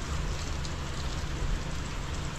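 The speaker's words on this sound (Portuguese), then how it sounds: "É chuva." Steady rain falls in a town in Japan, a dense, even hiss of drops that stays constant throughout, with no voices over it.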